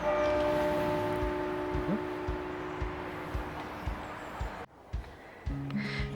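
Church bells ring out steadily at a moderate distance near a lake in the UK, their tones overlapping with outdoor ambience and a few soft thuds.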